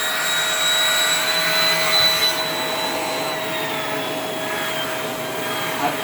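A Shark Rotator NV501 upright vacuum cleaner runs steadily at full suction with its brush spinning, a loud, constant whine and rush of air with a faint shifting tone, close up and without talk.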